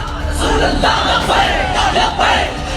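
A large crowd gathered to hear Saad Rizvi shouts together in loud, rising waves of chanting and yelling, dense and sustained.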